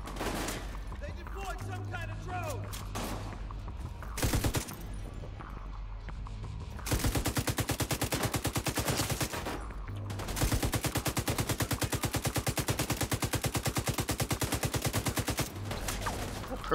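Rapid automatic gunfire in The Division 2 on World Tier 3 at the Potomac Event Center, coming in long dense bursts of quick shots with short gaps, loud and close, mixed with someone talking.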